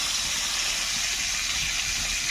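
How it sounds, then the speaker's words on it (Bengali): Fish marinated with turmeric, salt and chili frying in hot oil, producing a steady, even hiss of sizzling with no talk. "মাছ দেওয়া হয়ে গেলে এক পিঠ লাল করে ভেজে আর এক পিঠ লাল করে ভেজে তুলে নেব।"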